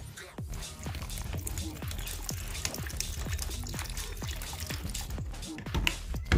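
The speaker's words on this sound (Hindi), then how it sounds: "थोड़ा सा पोर करके इसके अंदर हम डालेंगे पानी।" Water pours into shampoo inside a container to mix a car interior cleaning solution, a close, steady gurgling stream with repeated bubbling glugs as the level rises.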